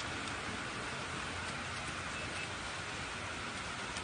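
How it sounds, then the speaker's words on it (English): Heavy rain pours during city floods in Alexandria, Egypt, as a steady, dense wash of close downpour that holds unbroken throughout with no voices. "further heavy rains caused widespread flooding across the city"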